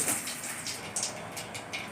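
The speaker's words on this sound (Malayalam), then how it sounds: "അണ്ടിപ്പരിപ്പ് മുന്തിരി ഒന്ന് വറുക്കാൻ വേണ്ടി കുറച്ച് നെയ്യ് ഒഴിച്ച്" Ghee heating and sizzling in a pan before cashews and raisins go in for frying, a steady soft crackle with scattered louder pops, close and alone.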